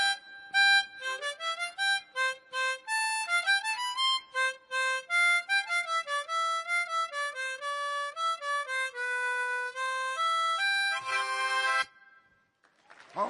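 A solo harmonica plays Bach's Minuet in G, with clear, sustained reedy notes in a lively, steady melody, close and alone, ending abruptly before a brief quiet tail.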